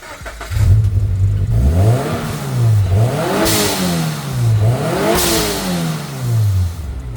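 A turbocharged Subaru BRZ with a stock blow-off valve revs up and down in three or four rising and falling surges, each throttle lift marked by a loud hissing release of air, close and with no talk over it.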